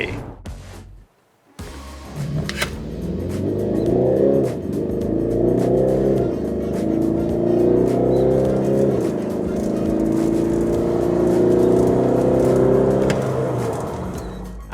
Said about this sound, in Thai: เดี๋ยวเราไปดูกันเลยว่าในตัว E220d อัตราเร่งจะ เป็นยังไง